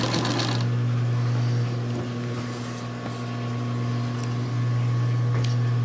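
A Pfaff sewing machine running a satin stitch gives a steady, close mechanical whir with a constant hum that holds evenly for several seconds.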